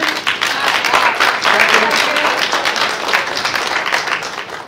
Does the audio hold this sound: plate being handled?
no